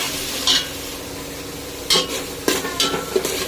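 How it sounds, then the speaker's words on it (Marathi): A green chili, coriander, mint, ginger and garlic paste sautéing in a pan for vegetable pulao, a steady low sizzle broken by a few sharp scrapes and clinks of a spoon stirring. "हिरवी मिरची, कोथिंबीर, पुदिना, आलं आणि लसूण याचं वाटण टाकायचं आणि ते पण परतवून घ्यायचं"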